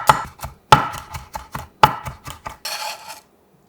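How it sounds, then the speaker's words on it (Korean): A knife chops three whole garlic cloves coarsely on a cutting board: a string of sharp, close taps in an uneven rhythm, with a brief scraping sweep at the end. "알싸한 통마늘 3개에 살짝 굵게 다져서"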